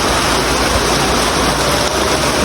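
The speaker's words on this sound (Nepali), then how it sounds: "डेन्जर पानी परिरहेछ" Heavy rainfall pours steadily in Sundar Bazar, Lamjung, a dense, loud, unbroken hiss of downpour close by with no pauses.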